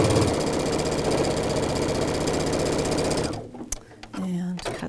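A sewing machine runs fast and steady while stitching a quarter-inch seam on a Halloween quilt, its dense rhythmic whirr stopping abruptly after about three seconds, followed by a few soft handling clicks and a brief mechanical hum.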